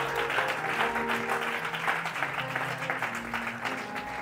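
A church congregation applauds the Lord during a Sunday morning sermon on marriage, a steady wash of clapping and cheering filling the room without pause, with faint music beneath.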